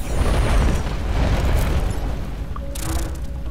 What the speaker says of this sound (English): Shoot the mountain! Mountain's collapsing.